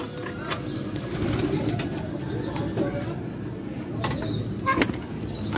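Racing pigeons, wet after rain, coo steadily at close range, a low continuous murmur with occasional sharp taps and brief rustling.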